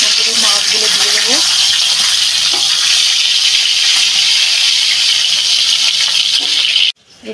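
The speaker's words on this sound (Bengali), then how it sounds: "ওদিকে মাছ ভাজাটা হচ্ছে।" Fish frying in hot oil for a fish and chana shak ghonto: a loud, close, continuous crackling sizzle that holds steady throughout, then cuts off abruptly near the end.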